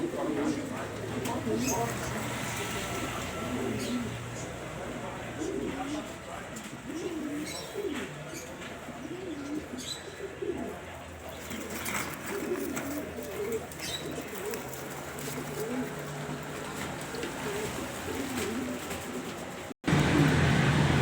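Tri Karaki pigeons cooing softly in repeated throaty rolls at a pigeon seller's in Alexandria, close by, mixed with chirps and background bustle, while someone talks over them.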